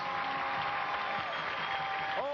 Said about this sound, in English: let's have a round of applause for Nadine, and also for Bruce.